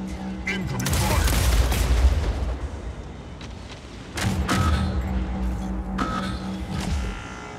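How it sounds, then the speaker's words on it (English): Heavy gunfire and booming cannon blasts from mechs battling on the Smokestacks map in Mech Arena, rolling in dense volleys with sharp reports and crackling bursts, loud and close, alongside short voiced game announcements. "Incoming fire."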